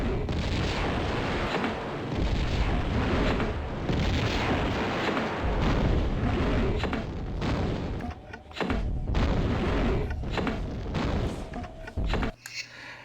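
Grenade launcher in a video game firing a long barrage of grenades, dense overlapping booms and blasts rolling continuously for several seconds, loud and harsh, with short gaps near the end.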